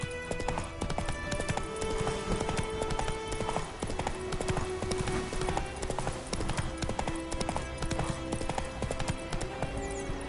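Hooves of a galloping horse in a video game pound in a fast, continuous rhythmic clip-clop, loud and close, layered over the game's background music and ambience.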